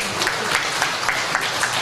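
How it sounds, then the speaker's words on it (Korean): A short, steady patter of audience clapping welcoming a guest at a church gathering, close and even with no talk over it. "축사를 준비하고 계시는 평화의 사도 진주 문화원장님을 큰 박수로 오고 계시는데 환영하겠습니다."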